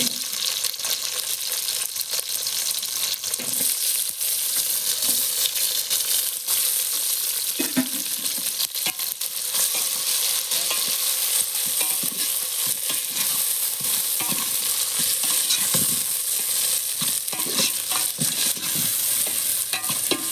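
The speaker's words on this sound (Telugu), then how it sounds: "టమాటాలు మగ్గనిద్దాము" Tomatoes with curry leaves fry in a pan in a village-style kitchen, giving a continuous dense sizzle with frequent scraping stir strokes throughout, close and steady, no voices.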